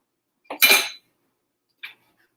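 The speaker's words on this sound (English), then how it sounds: "going to put the top on there" A lid is set onto a cooking pot with one short metallic clank and rattle, followed a moment later by a faint single clink.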